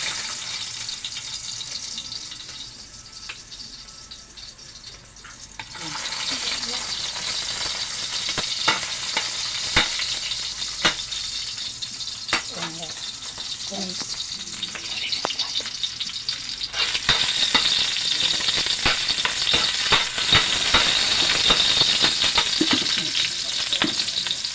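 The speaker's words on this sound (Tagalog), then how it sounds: "Igisa na natin yung bawang at sibuyas." Chopped garlic and onion sauté in hot oil in a pan, giving a steady close sizzle with intermittent stirring clatter that grows louder and brighter partway through as more goes in.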